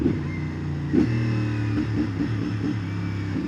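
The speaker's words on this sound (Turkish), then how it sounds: "Şu egzoz sesini artık şu mikrofona yansıtmam lazım yani" A 450 SR motorcycle engine idles and rumbles nearby with a low, steady exhaust drone, briefly blipping the throttle a few times.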